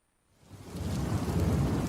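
Rain and thunder sound effect from a radio ad, fading in from near silence to a steady, loud wash of downpour with deep rumbling underneath, no voices.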